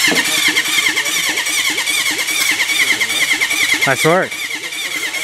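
A Honda CB750 motorcycle engine cranks over on its starter with rapid, loud, rhythmic turning that runs close up under a short spoken remark, then stops abruptly.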